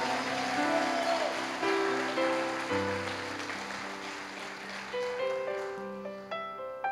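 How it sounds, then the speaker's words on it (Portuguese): A church congregation applauds, a dense patter of clapping heard under sustained music with held chords and a voice, fairly loud and steady before thinning toward the end. "Aplauda e glorifica ao Senhor de alguma maneira"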